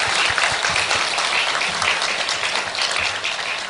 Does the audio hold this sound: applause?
yes